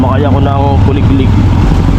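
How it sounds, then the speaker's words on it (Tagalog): A motorized kuliglig engine rumbles loud and steady from close up during a ride, with a voice speaking over it. "Sumakay ako ng Kuliglig."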